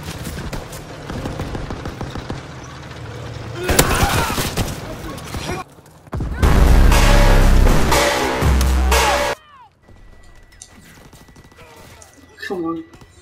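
Gunfire in Call of Duty WW2 during a German tank advance: dense bursts of machine-gun fire and rattling shots in loud, intense stretches, separated by brief quieter gaps with distant sounds.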